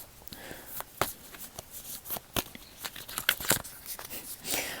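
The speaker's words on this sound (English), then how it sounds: "I'm not a great card shuffler here." Tarot cards are shuffled in a loose, uneven run of papery riffles and snaps, close and fairly quiet, with no voices.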